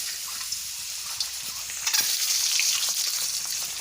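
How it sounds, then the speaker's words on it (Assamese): Boiled eggs frying in hot oil in a very hot wok, a steady close sizzle with faint stirring clicks throughout, growing slightly louder and denser toward the end. "ডিমাকেইটা আগত ভাজি ল'ম"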